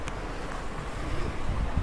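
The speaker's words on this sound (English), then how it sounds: "These waves are roaring." Ocean waves roar against an island shore with wind buffeting the microphone, a steady washing rumble that swells slightly toward the end, heard alone.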